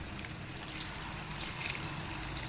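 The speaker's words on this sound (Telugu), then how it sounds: "కొంచెం అంటే కొంచెం వాటర్ పోస్తున్నాను" A small splash of water trickles and pours into a cooking pot of chicken curry with spices, a soft continuous liquid patter heard close and fairly quiet, with no voices.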